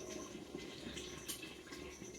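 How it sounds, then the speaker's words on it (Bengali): Mutton kosha curry bubbling in a pot near the end of cooking, with ghee and garam masala added, a steady close simmering and bubbling hiss with occasional louder pops. "ফুটছে ভেতরে।"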